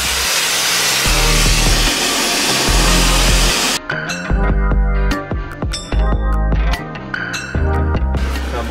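Compressed air from the main reservoir vented through a silencer, a loud steady broadband hiss for almost four seconds that then breaks into clanking, ringing metallic knocks.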